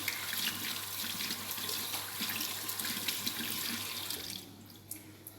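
Running tap water pours steadily into a sink while hands are wetted during a hand-washing routine, a continuous close hiss that thins out near the end.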